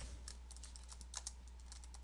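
Fingers type on a computer keyboard while renaming an Excel worksheet, a quick run of soft, close key clicks in an irregular patter over a low steady hum, with no voice.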